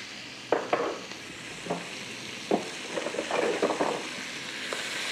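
Onion, garlic and oil, carrying flavours from browned chicken, sizzle in a tagine while being stirred, with a low frying hiss broken by several distinct scraping strokes up close.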